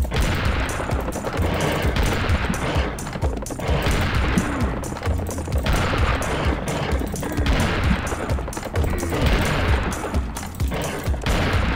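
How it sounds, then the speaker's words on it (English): Rapid bursts of weapon fire in Serious Sam: The Second Encounter, loud and continuous, with repeated shots and impacts layered over a dense game soundscape and no talking. "Apparently this weapon you can't hold the fire button down and expect it to work."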